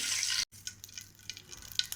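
Butter melts and fries in hot oil in a pan, giving a bright, close sizzle that cuts out for an instant, then continues more softly with scattered crackles and pops.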